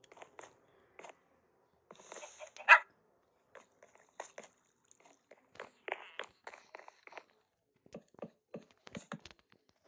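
A puppy eats meat, with repeated crunching bites and chewing clicks close by, scattered irregularly over ten seconds, mixed with a few small yips and shuffling steps.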